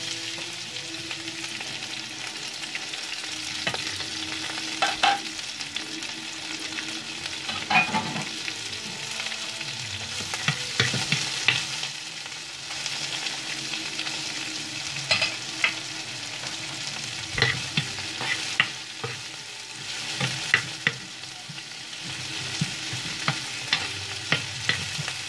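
Garlic and onion sauté in hot olive oil for a mongo bean soup, a continuous bright sizzle punctuated by repeated scraping stirs and utensil clicks, close and alone.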